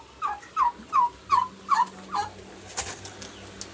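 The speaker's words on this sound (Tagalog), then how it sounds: "Ito yung mag-asawang pabo." A pair of turkeys gobble in a quick run of about six rattling calls, fairly close and steady, then fading into softer outdoor noise.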